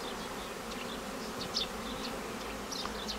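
Honey bees in mass flight from a beekeeping apiary hive toward a forest, a steady dense buzzing swarm drone with occasional louder passes close by, no voices.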